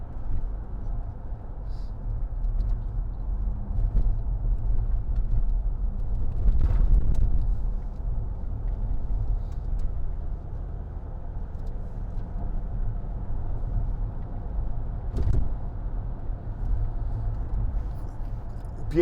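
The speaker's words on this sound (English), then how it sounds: "This is a very, very bumpy road." A 2010 Range Rover Sport 3.0 TD V6 HSE diesel crosses a very bumpy road, giving a steady low cabin rumble with a couple of heavier thuds as the wheels hit bumps.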